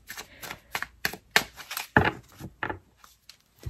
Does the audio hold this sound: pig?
no